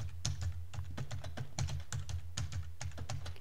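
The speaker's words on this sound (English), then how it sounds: "I'm just pounding in some keys here." Someone types a passphrase on a computer keyboard in quick, irregular bursts of clicking keystrokes over a low steady hum, close and fairly quiet with no talk.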